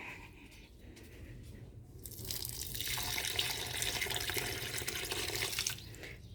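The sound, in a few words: water being poured for a tulsi plant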